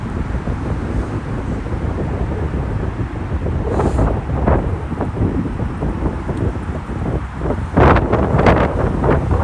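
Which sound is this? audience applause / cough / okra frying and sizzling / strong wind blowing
strong wind blowing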